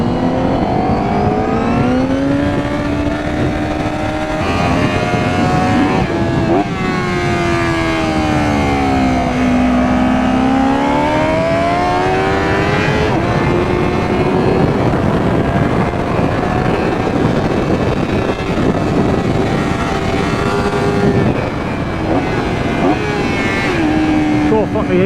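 A 2024 Honda Fireblade SP motorcycle screams around a track lap, its engine note climbing and falling through gear changes at high revs, loud and constant under wind roar.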